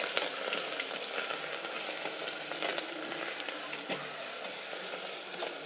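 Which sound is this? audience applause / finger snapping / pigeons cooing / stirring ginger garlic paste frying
stirring ginger garlic paste frying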